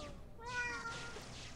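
A single cat meow in the game Might and Magic VI, a clear rising-then-falling tonal call lasting about a second over faint background hiss.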